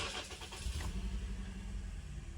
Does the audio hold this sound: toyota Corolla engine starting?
yes